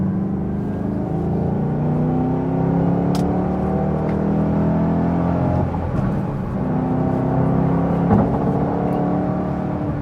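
A 2014 Ford Mustang GT500 pulls in 4th gear, its engine a continuous deep rumbling drone with gently shifting pitch, heard close from inside the car without any talking.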